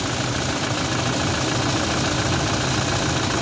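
A Toyota Hilux engine runs steadily after an alternator repair, a loud continuous rumble with a faint knocking beat and no pauses.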